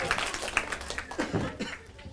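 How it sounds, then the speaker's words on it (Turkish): An audience at a school drama event gives a short burst of uneven hand clapping mixed with some laughter, fading after a couple of seconds beneath voices. "Alkışlıyoruz kocaman."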